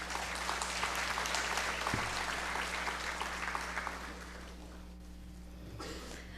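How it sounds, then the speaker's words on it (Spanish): Audience applause at a panel discussion on talent management in the civil service, clapping strong at first, then thinning and fading out toward the end. "Demos un aplauso"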